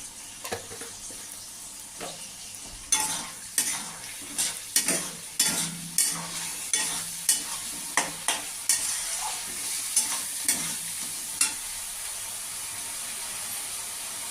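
Dried red chillies and Kashmiri chilli fry in a pan while a utensil stirs them, giving a faint hiss under sharp, rhythmic scraping strokes that repeat roughly every second, close and fairly quiet, with no talking.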